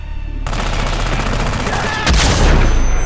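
Shotgun blasts and gunfire from the Hitman Absolution video game, a dense rapid volley of loud close shots with a heavier, deeper burst near the end.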